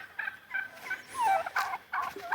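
Young farm turkeys gobble in short warbling bursts at moderate distance, several calls overlapping with brief pauses between them.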